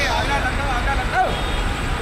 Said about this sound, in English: I can see one very colorful bus coming my way.